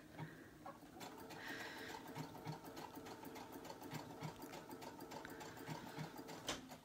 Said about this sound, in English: Alrighty, so now I can sew it.